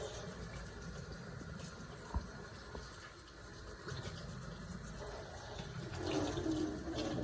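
A faint, steady stream of running tap water pours while a ball python is rinsed, with soft splashing and handling noises mixed in.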